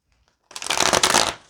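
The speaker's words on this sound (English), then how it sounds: "I can't keep shuffling cards." One brief, close riffle of tarot cards, a dense papery flutter lasting under a second after a moment of near silence.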